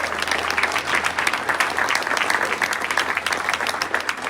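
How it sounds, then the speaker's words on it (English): Dense, steady applause from a club meeting audience at a Rotary Club gathering, many hands clapping continuously and fairly close for the whole stretch. "Give them a round of applause."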